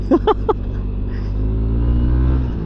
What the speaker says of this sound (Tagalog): Ang sarap magmotor.